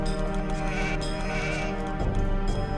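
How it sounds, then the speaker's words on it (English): Sheep bleat amid the steady music and game sounds of an Age of Empires match, the bleating short and layered within a dense, continuous soundtrack. "Hello, we've got some more sheep."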